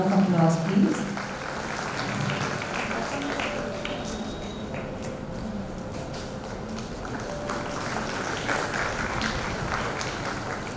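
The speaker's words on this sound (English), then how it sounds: "A round of applause, please." Audience applause at a girls' high school annual day, steady dense clapping sustained throughout, with a voice speaking over the start.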